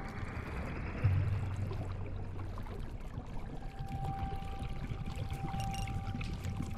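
Water trickles and drips in a dark setting in the video game Dark and Deep, a steady wash of running water with a faint low hum beneath and no voices.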